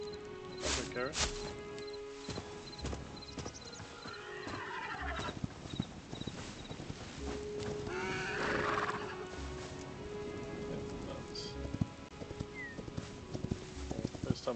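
A horse in the Hytale video game gives two drawn-out whinnies over a steady run of clip-clopping hooves, set against a continuous game soundscape.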